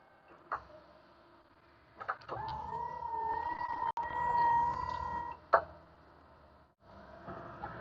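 The cab of a fire truck tilts up on its hydraulic lift, a steady mechanical hum and whine of a few seconds broken by sharp clunks and a clack at start and finish.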